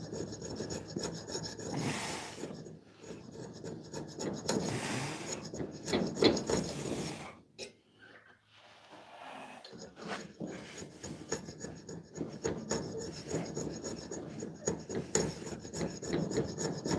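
A hand file rasps along a dagger blade in repeated scraping strokes, close and fairly quiet, with a brief pause in the middle before the rhythmic filing resumes in quicker, denser passes.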